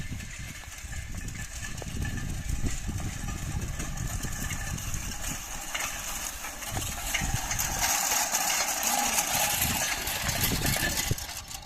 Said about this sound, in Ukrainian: квадроциклі їхали?